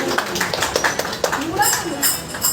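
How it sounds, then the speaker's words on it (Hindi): Audience applause at a Ganesh festival bhajan satsang, a steady patter of hand claps lasting a couple of seconds, with voices and a few shouts mixed in. "एक बार तालियां बजाइए"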